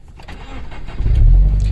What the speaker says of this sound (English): So I'm going to start the car.